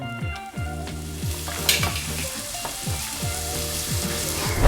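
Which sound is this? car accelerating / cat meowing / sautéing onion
sautéing onion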